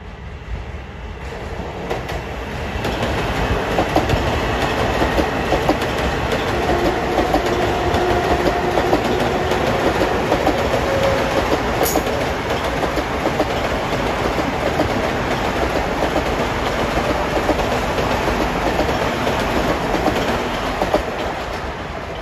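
An LIRR commuter train passing Elmont station, a loud sustained rumble with rhythmic wheel clatter that builds in the first few seconds and holds steady throughout.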